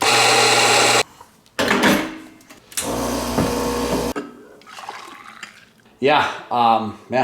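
A coffee machine grinds and hisses in loud bursts separated by brief pauses while making an Americano, ending with gurgling and dripping sounds.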